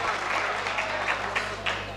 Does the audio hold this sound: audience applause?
yes